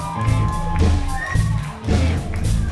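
Crowd at a Kashubian triathlon event cheering and clapping for a costumed participant, a loud continuous wash of voices and applause rising and falling in waves.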